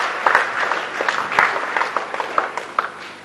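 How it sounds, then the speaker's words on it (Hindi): An audience at a government food-distribution event claps to welcome the Prime Minister, a loose, uneven patter of hands with a few sharper individual claps standing out, moderately loud and without talk. "पर आप भी तालियां बजा के सम्मानित प्रधानमंत्री जी का स्वागत कीजिएगा, अभिनंदन कीजिएगा।"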